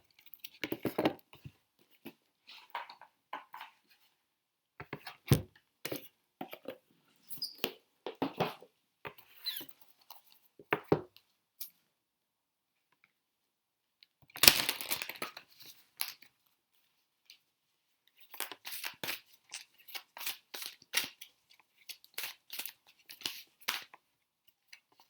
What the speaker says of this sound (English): let me just put the postcards back in their box